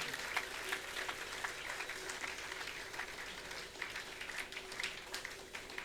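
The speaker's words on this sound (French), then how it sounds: "Vous pouvez l'applaudir pour lui souhaiter la bienvenue." A church congregation applauds to welcome the pastor, steady crowd clapping that holds for several seconds while a voice is faintly heard beneath it.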